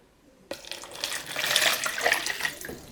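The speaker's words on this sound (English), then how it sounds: "let's pour the water in" Water poured into a plastic container for marble art, starting suddenly and building into a continuous, close splashing gurgle that fills and rises in intensity, with no voices.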